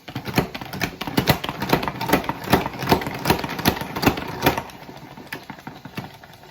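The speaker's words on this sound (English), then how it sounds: "You need a salad spinner if you don't have one, Anna." Salad spinner spinning freshly washed greens in a kitchen: a rapid, steady rattling clatter with a whirring drone underneath, close by, slowing and fading slightly toward the end.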